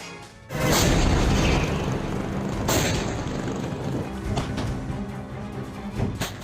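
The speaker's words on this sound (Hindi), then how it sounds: "ये तुर्की के टैंक हैं जो सीरिया में कुर्द फाइटर्स पर ताबड़तोड़ गोले बरसा रहे हैं।" Turkish tanks fire shells at Kurdish fighters in Syria. One loud, heavy boom goes off early, followed by a rolling rumble and a few further thuds and rattles at a distance.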